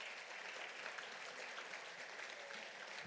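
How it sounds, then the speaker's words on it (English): A gala dinner audience at a national convention applauds hotel staff, giving a steady, dense wash of clapping from a large crowd that holds evenly throughout at moderate distance. "can we give them a round of applause?"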